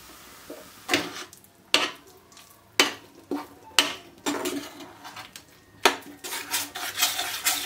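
Tomato puree is stirred into fried masala for a mushroom gravy, with a spoon repeatedly knocking and scraping against the pot in irregular strokes over a faint sizzle.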